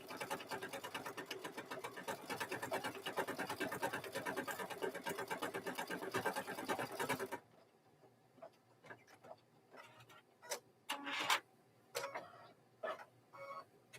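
A sewing machine stitching embroidery on a fabric mug rug runs in a fast, even rapid-fire clatter for about seven seconds, then stops, leaving scattered knocks and handling sounds.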